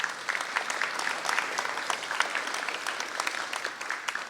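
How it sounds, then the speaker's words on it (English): An audience at an Armed Forces Day luncheon claps for a standing Boy Scout troop, a moderate room of individual claps blending into steady, fairly soft applause throughout. "Would all the Scouts please stand and get a round of applause from the audience?"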